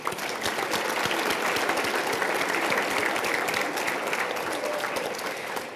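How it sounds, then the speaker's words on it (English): An audience at the Regional Chamber ATHENA Award 2021 ceremony applauds a group of award nominees, a dense, even roar of many hands clapping that holds steady for several seconds before easing slightly. "Can we please give this first group of nominees a round of applause?"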